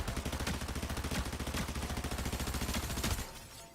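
Rapid submachine-gun fire in Fortnite Zero Build rattles out in a tight, fast burst of evenly spaced shots lasting about three seconds, loud and close, then cuts off abruptly.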